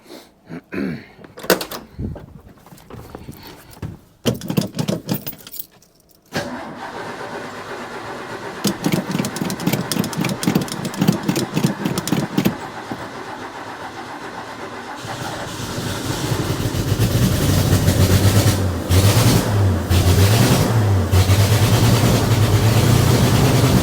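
An old Ford bullnose truck's 300 engine with a new two-barrel carb conversion cranks, catches and settles into a steady, loud running note that climbs louder and rougher later on, with door clunks near the start.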